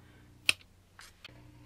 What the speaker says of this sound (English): Alright, now, finger clap,